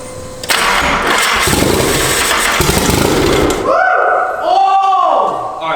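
A car engine cranks and catches after repairs, roaring steadily close by for several seconds before settling as voices speak over its running.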